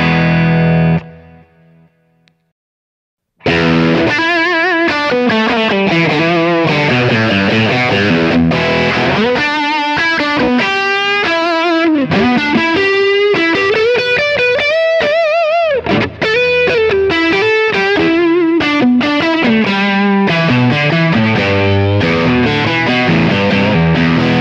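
Overdriven electric lead guitar through a Humboldt Electronics Magellan overdrive pedal, playing a loud, continuous melodic solo with sustained bent notes and fast runs after a brief quiet start.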